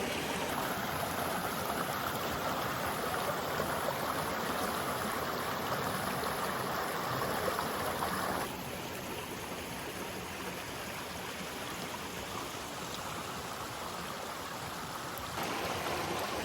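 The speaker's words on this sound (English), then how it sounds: "we're just down the creek now" A rainforest creek flows in a steady, even rush of water, continuous and moderately close, with no voices over it.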